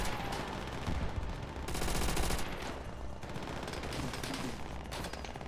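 Gunfire in Call of Duty: World at War, rapid bursts of shots with short pauses between them, moderately loud and close, with no voices over it.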